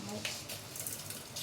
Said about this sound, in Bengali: তেল গরম হয়ে গেছে, এবার ফোড়নটা দিয়ে দেবো। দেখো, দুটো শুকনো লঙ্কা দিলাম ফোড়নে